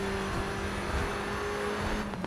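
Race car engine held at full throttle in the Grid 2 racing game, a steady droning whine that stays level throughout and ends in a brief rise of noise.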